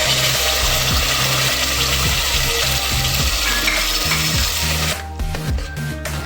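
Ground masala with onion sizzles steadily in a hot pan for palak pulao, a dense crackling hiss that runs throughout and eases slightly near the end.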